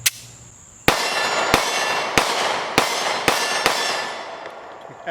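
Kimber Solo carry pistol firing Fiocchi 115 grain full metal jacket rounds: six sharp, loud gunshots at an irregular pace of roughly one every half second to second, each ringing briefly, with no talking.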